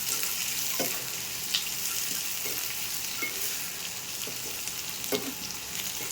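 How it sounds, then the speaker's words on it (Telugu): Tomato and onion with green chillies frying in a small pan for curry, a continuous close sizzle broken by occasional stirring scrapes and pops. "ఇలా ఫ్రై చేసుకున్నాం కొంచెం."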